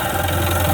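A Sea-Doo personal watercraft engine runs on carb cleaner after its carburetor has been cleaned, giving a brief, loud, steady, throbbing drone up close.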